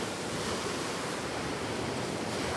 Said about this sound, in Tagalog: Ito yung dagat.